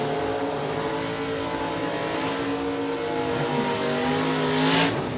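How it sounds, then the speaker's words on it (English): A 1969 Camaro with an automatic transmission drag races in the right lane at a Super Stock event, its loud engine roaring steadily at high revs with a rising tone near the end. "Brenda Grubbs working the B automatic magic in the 69 Camaro right lane."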